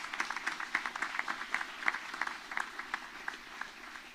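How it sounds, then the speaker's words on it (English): A modest crowd at the official opening of a town square claps for construction workers, sparse distinct hand claps in a loose, uneven rhythm, moderately near and fairly quiet. "So let's give them a round of applause."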